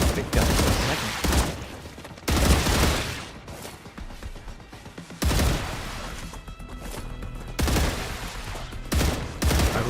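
Heavy gunfire from a big gun in the video game StarRupture, several loud bursts of rapid shots, each followed by a rumbling crash, repeating in clusters through the whole stretch.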